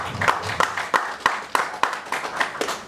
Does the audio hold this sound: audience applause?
yes